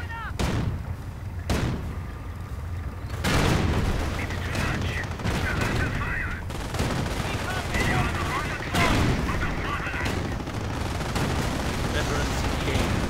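Panzer tanks and a machine gun firing in a World War II strategy game, with repeated heavy booms and bursts of rapid gunfire that keep going at a steady loud level, while a commentator talks over them.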